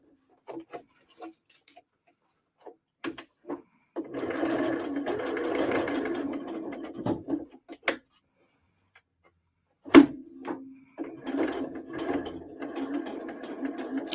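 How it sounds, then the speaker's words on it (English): A sewing machine stitches across the end of a zipper tab, running in two bursts of steady, rapid mechanical stitching separated by a pause, with a few soft clicks and handling sounds before and between the runs. "I'm sewing at a crazy angle."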